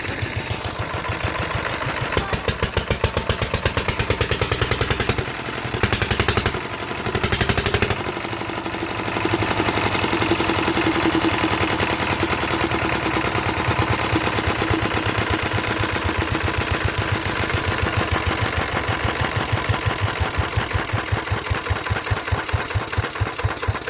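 A Kirloskar engine, cold-started after ten years of disuse, runs with a steady rapid knocking beat, briefly stumbling and cutting out for a moment before settling back into an even, loud idle with no talk.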